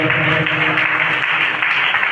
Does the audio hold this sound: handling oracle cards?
no